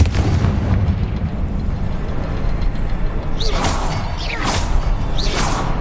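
Confringo blasting spell explosions in the video game Hogwarts Legacy: a steady low rumble, then three sharp whooshing bursts in quick succession, each ending in a loud crackling blast, with no talking.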